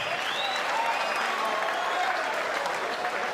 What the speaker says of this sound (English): these fighters deserve another big round of applause